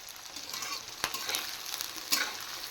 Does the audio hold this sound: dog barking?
no